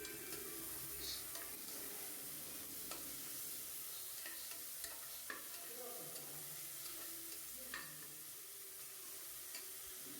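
Tomatoes with salt cooking in a pan for broad bean sambar, a faint, soft sizzle with occasional light clinks and scrapes of stirring, quiet and steady with no talk.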